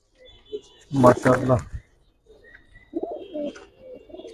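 Giribaz high flyer pigeons coo nearby, a short burst of low throaty calls followed by softer cooing, with someone speaking Bengali around them.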